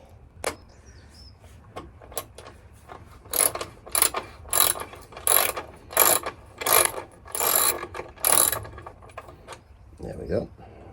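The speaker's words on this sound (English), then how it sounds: "let's get these bolts off." A ratchet wrench undoing bolts on the rear rack of a Honda Rebel 500 motorcycle, a series of rapid clicking bursts in a regular rhythm, close and fairly loud, with quiet gaps between.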